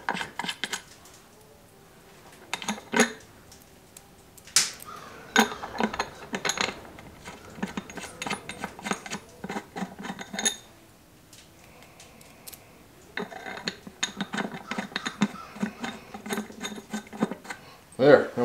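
Bolts with lock washers being tightened on a Case David Brown 1394 tractor engine cover: a run of ratcheting wrench clicks and metallic clinks in bursts, close by, with brief pauses and some low background talk.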